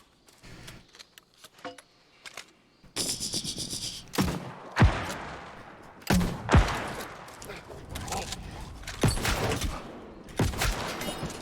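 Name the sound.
mortar firing in the video game New World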